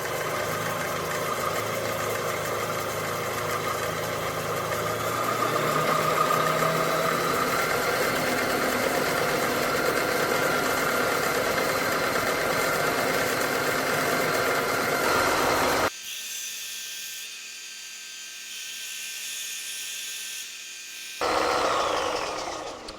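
A Sainsmart disc and belt sander runs at 2,600 RPM with a loud, steady motor whine and belt hum that holds constant for about sixteen seconds. It then drops to a quieter, thinner tone and swells again briefly near the end.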